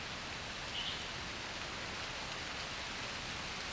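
Steady, soft hiss of rain falling in the Smoky Mountains, even and continuous, with no voices or other distinct sounds.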